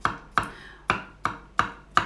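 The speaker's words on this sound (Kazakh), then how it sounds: "Пышақпен өстіп турап шығамыз" A knife chopping zucchini on a board, six sharp, evenly spaced cuts about a third of a second apart, close and crisp with no talk.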